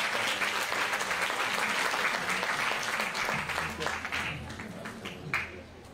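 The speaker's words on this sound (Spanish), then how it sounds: "El aplauso para ellos, por favor." A crowd at a sports awards gala applauds footballers being honored, with dense sustained clapping throughout that slowly tapers off near the end.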